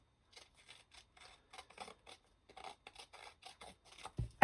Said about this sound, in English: I'm just going to randomly trim off a bit on two sides